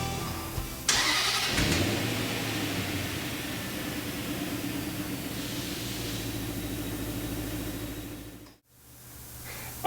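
A 2007 Range Rover Supercharged with a 4.2-liter supercharged V8 cranks and fires up near the start, then settles into a steady, smooth idle. The engine cuts off abruptly near the end.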